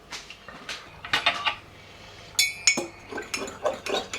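Egg being whisked in a bowl for Cornish pasties, rapid bright metallic clinks and taps in quick bursts, close and fairly quiet with pauses between strokes.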